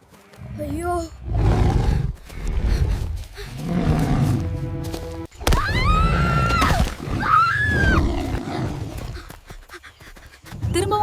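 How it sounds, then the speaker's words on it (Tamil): A wolf's fierce growl in a 3D-animated Tamil children's story sounds as loud, repeated snarling roars in several surging bursts, mixed with shrill cries and a busy cartoon soundtrack. "ஓநாயின் பயங்கரமான உருமல் சத்தம்."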